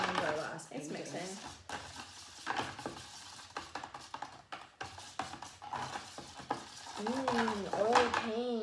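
Cheap oil paint being stirred, a soft scraping and swishing that continues in irregular strokes, with voices talking over it at the start and end.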